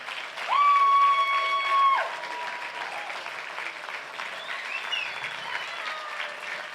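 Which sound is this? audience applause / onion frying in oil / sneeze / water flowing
audience applause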